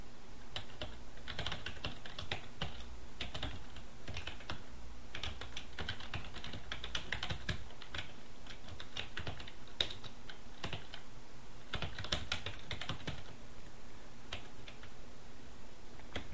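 Rapid typing on a computer keyboard while coding, with quiet, close key clicks coming in bursts and short pauses throughout, no voices over them.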